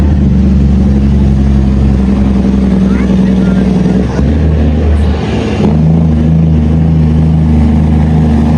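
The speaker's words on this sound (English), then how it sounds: "A fully loaded logging truck sharply turns on a dangerously narrow road" Heavy engine of a fully loaded logging truck turning on a narrow cliffside road, a loud low droning rumble that shifts pitch midway, with a voice talking over it.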